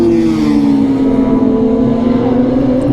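Racing motorcycles on a warm-up lap, tyres being warmed close to the wall, passing with a loud sustained engine drone whose pitch slides gently downward as they go by.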